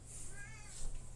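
A single soft cat meow, faint and brief, rises with a wavering tone over a low background hum.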